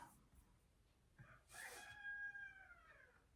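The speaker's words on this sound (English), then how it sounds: "If you hear chickens, I'm so sorry." A rooster crows once, faint and a little distant, a rising then falling call of about a second and a half, after a soft cluck and in a quiet room with no talk.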